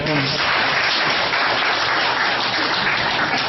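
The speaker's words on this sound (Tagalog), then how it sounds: "Pwede pong maraming palakpak para kay Bro Jay" An audience breaks into steady, fairly loud applause that holds evenly throughout, with a brief voice at the very start.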